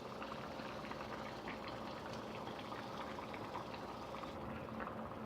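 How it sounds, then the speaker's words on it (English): King fish curry gravy simmers in a pot, giving a steady, faint bubbling and hiss that runs unbroken throughout with no talking. "So let it cook like this for 5 more minutes and then our fish gravy is ready."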